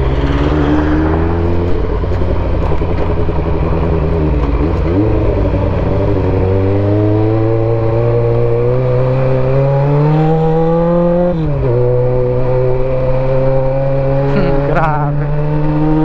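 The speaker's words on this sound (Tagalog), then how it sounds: "meron tayong kasalubong nag-iisang sasakyan" A steady engine drone from a CB400 motorcycle on a scenic mountain road in Tinoc–Hungduan, Ifugao, shifting pitch with speed changes as a single oncoming car passes, heard throughout at close range.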